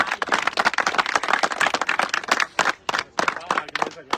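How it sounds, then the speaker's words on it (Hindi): Dense, crackling applause from a crowd at the award ceremony for a village T20 cricket tournament continues almost without a break and dips briefly near the end, with talking mixed in. "मैं चाहता हूं कि जोरदार तालियां होनी चाहिए शुरुआत में।"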